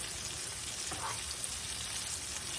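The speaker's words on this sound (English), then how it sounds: "You can fry shrimp in under 5 minutes." Shrimp frying in hot oil, a steady dense sizzle and crackle that holds evenly throughout, close up with no voices.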